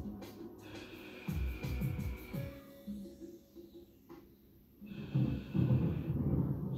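Heavy, audible breathing during a back-strengthening floor exercise with an elastic band, slow breaths in and out rising and falling in waves, close and alone without talk.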